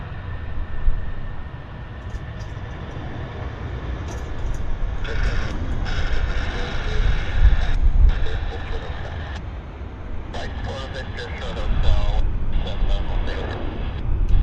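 Airliners departing Vancouver airport produce a broad, distant jet roar that swells and fades over several seconds, with a voice talking over it at times.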